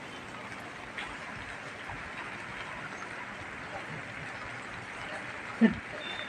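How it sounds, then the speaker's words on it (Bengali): Light drizzling rain falls steadily, a soft continuous hiss throughout with one brief louder knock near the end; no voices. "এই যে বৃষ্টি আরম্ভ হয়ে গেছে"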